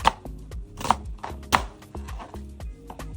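A knife chops peppers in two on a board for Ewa Agoyin sauce: several sharp, close cuts at uneven intervals over a steady tonal background.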